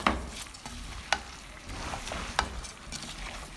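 Rice with vegetables and spices is stirred in a pot over low heat: scattered soft scrapes and light clinks under a faint sizzle, with two sharper knocks standing out, close and fairly quiet.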